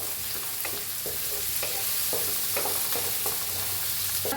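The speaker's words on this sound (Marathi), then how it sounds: "टाकूया हिंग आपल्याला कांदा हलवून घेऊया" Onions frying in a pan with asafoetida and mustard seeds, stirred with a spoon: steady close sizzle with a run of soft scraping stir strokes and small pops, no talk.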